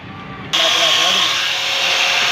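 An electric drill machine starts abruptly and runs at a steady high whine, loud and close, with a continuous drilling hiss that holds without pause.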